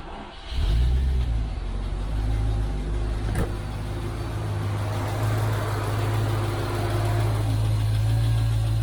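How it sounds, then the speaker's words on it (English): A Rover 3.9 V8 engine idles steadily nearby with a low, constant hum and a faint power steering pump whine layered on top; one brief click sounds partway through. "Power steering pump, I expect."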